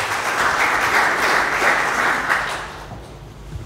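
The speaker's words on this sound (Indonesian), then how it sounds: "Kasih tepuk tangan untuk Tuhan." Congregation in a church service claps for God, a full burst of applause that holds steady and then tapers off in the last second, leaving quieter room sound.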